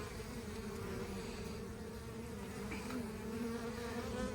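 Honeybees buzzing steadily at a hive entrance in a bee yard, workers flying in with pollen on their legs after surviving a polar vortex; a close, continuous droning hum that holds throughout, with no talking.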